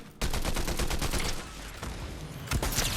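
Automatic gunfire in a Fortnite match rattles loud and close in rapid bursts, pausing briefly before another short burst near the end, with no talk over it.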